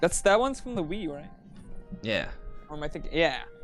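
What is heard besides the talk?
No distinct noise like a dog, phone or traffic.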